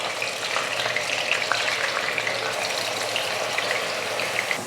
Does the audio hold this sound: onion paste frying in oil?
yes